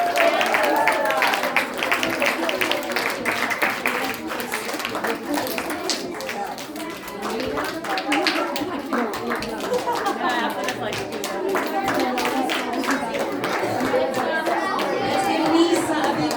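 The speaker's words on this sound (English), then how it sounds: "Let's give Lisa a big round of applause for helping out with her story." Crowd clapping and applause with chatter and children's voices mixed in, sustained and fairly loud throughout.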